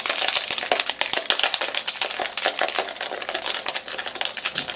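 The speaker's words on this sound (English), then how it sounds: "just shake things up with these keys on this phone" A bunch of keys is shaken against the glossy back of a Jet Black iPhone 7, giving rapid, loud, close-up clicking and jangling in irregular bursts throughout.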